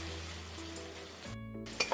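Pumpkin and green chillies fry in a pan with a steady close sizzle. A brief stirring clink near the end sits over a faint tonal hum.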